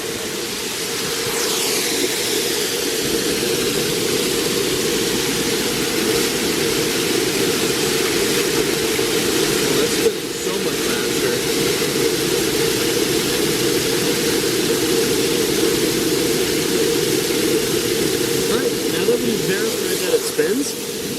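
A 3D printed water turbine, the second revision of a tow turbine, spins in flowing water, giving a loud, steady rushing wash with a low churning rumble that holds for about twenty seconds, broken only by a brief dip near the middle.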